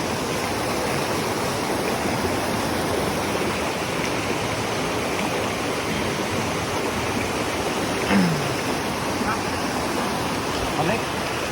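Waterfall at a nature spot in Korea, heard as steady broadband rushing water that stays constant and fairly close throughout, with faint voices occasionally under it.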